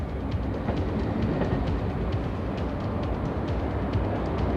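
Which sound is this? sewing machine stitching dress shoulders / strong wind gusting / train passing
train passing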